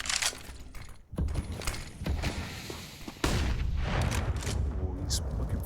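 A frag grenade goes off in a Counter-Strike match on Dust2, a deep booming blast around the one-second mark followed by loud, dense in-game noise, with a caster talking excitedly throughout.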